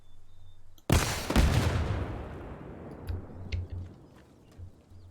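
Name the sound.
gunshots fired at a wall in video game ArmA: Reforger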